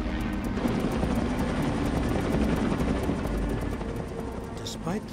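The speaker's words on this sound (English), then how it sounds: "the helicopter is forced to make some dangerous maneuvers, leading to some close calls" A helicopter hovers close overhead during construction crane mast installation, its loud rotor chop beating in steady rapid pulses throughout, with a faint voice or mechanical squeal near the end.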